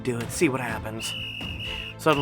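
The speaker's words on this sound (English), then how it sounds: "That was a dog whistle." A thin, steady high-pitched dog whistle in the Choices story game Alpha sounds for about a second, under and between a narrator's spoken lines.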